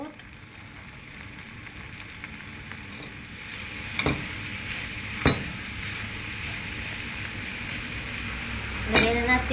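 Carrot stir-frying in a hot pan alongside tomato and green peas: a continuous sizzle with a few sharp scrapes and knocks of the spatula against the pan, close and fairly loud.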